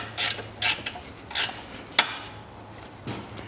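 A ratchet tightens a bolt during a timing belt replacement on a 2010 Kia Rio 1.4, giving several short, close metallic clicking bursts separated by pauses, with no speech.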